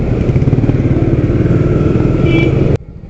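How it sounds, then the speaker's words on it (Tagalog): An expensive motorcycle engine rumbles loudly and close by with a steady throbbing beat, then cuts off abruptly near the end. "Mamahaling motor to mga kuya."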